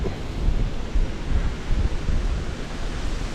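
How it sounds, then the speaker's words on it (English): Strong wind gusts over open water while fishing for barramundi from a boat. The roar is low and buffeting and hits the microphone directly, staying loud and constant with no talking. "As you can tell, the wind's picked up."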